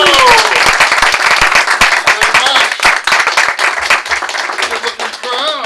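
An audience at the Magic Castle claps and cheers loudly for a magician walking onstage, dense close applause that rises and thins toward the end, with some voices and whoops mixed in.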